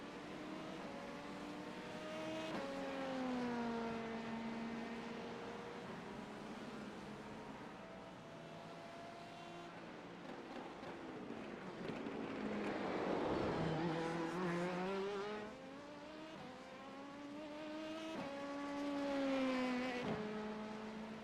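A race car in an IMSA racing game lapping a track, its engine droning and rising through repeated gear shifts, revving up and easing off in long waves, with a louder, closer surge near the middle.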